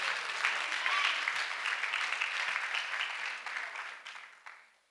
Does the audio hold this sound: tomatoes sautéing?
no